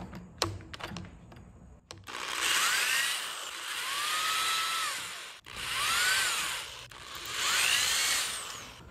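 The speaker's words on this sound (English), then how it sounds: "Pre-drilled just a smidge for the screws." A power drill whirs in three sustained bursts, drilling small pilot holes for screws into a wooden furniture base, each pitch rising as it spins up, with brief clicks and handling noise beforehand.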